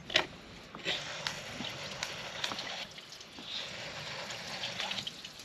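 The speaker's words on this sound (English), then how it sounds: "So I'm just giving it some pulses of water" Water from a garden hose pulses in short bursts through the heater core of a 4th-generation Ram truck, splashing and gurgling with a steady wet rush at moderate distance.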